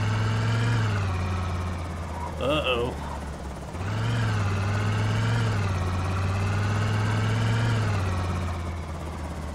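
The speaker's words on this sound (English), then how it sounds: "Helicopter's coming back for a fourth pass." A helicopter in the video game World War Z drones steadily overhead with a loud, throbbing rotor and engine hum that dips briefly, and a voice speaks over it.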